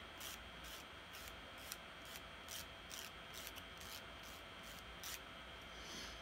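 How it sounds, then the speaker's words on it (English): A nail file rasps against the edge of an applied nail wrap in short, repeated strokes, trimming the excess with a soft, close, scratchy rhythm over faint background hiss. "the excess wrap kind of rolls off with the filing"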